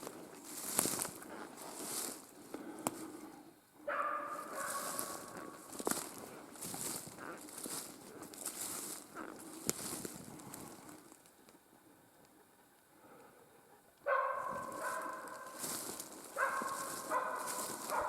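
A hunting dog barks in the forest during a capercaillie hunt in the Komi wilderness: several spaced barks, some distant and some closer, over background rustling and footsteps.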